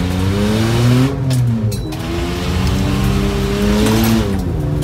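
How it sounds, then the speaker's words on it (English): A Subaru car on dirt and mud does handbrake turns with hot brakes, its engine droning loudly and shifting pitch as it revs and slides, with a brief tyre scrub partway through. "It's progressively getting better at handbraking as we get the brakes hot."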